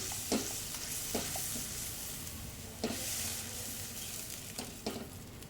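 Tomato purée sizzles steadily in hot oil with garlic, a soft continuous frying hiss with occasional light stirring clinks, fairly quiet and without talk.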